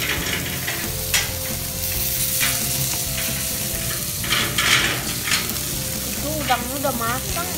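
Seasoning paste sizzles and fries steadily in a pan at close range, with stirring scrapes and occasional clinks of utensils.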